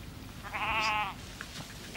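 A single sheep gives one clear, wavering bleat close by, lasting about half a second, against quiet outdoor background with no talking.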